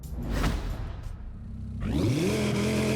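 A car engine in Forza Horizon 5 cranks and catches, then settles into a loud, steady hum after a whooshing buildup, with no talking.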